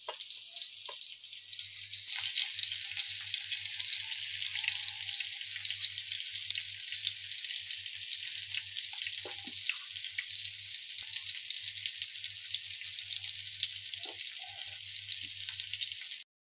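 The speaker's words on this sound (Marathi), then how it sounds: "चला, आता हे छान एक साईडला खरपूस तळून होऊ द्या" Bombay duck (bombil) fish, dusted in flour, shallow-frying in a pan with a steady, dense sizzle that runs alone at an even loudness throughout, with a faint low hum underneath.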